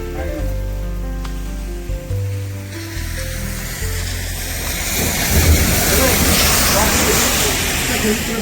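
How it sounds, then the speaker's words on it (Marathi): Rain hisses steadily and grows louder partway through, while a person talks over it near the start. "पाऊस अजून चालूच आहे"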